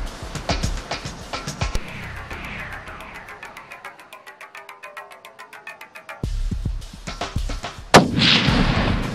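Firearm shooting at a target outdoors: a series of loud, sharply spaced reports that fade into a quieter rhythmic pulsing, then a heavier final blast near the end.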